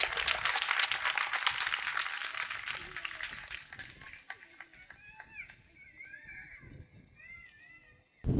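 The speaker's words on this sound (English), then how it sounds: "Give him a big applause." Applause from a school audience welcoming a guest speaker to the podium at a primary school computer donation ceremony, dense clapping for about four seconds that thins out, followed by someone speaking, with children's voices in the background.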